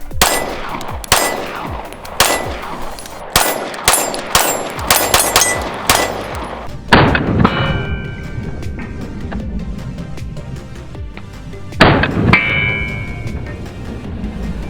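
HK VP9 pistol firing at an outdoor range, a rapid string of sharp loud shots followed by two more isolated shots with ringing metallic echoes between them.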